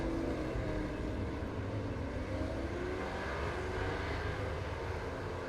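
Race car engine idling beside the track at Winton Motor Raceway in an iRacing Supercars Championship round, a steady low drone that holds level and unbroken throughout.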